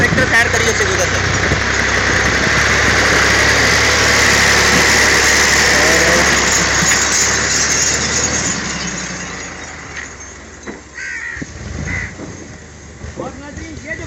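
A tractor crosses a new, unreinforced concrete bridge over a stream in Chakwal, its engine rumbling loud and steady for several seconds before easing off, with scattered crow caws nearby.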